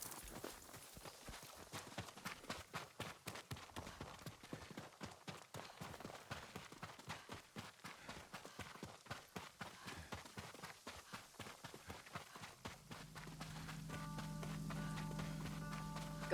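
Horse hooves clip-clop in a steady walking rhythm for a long stretch in the video game Ghost of Tsushima, with a low hum and faint tones rising near the end.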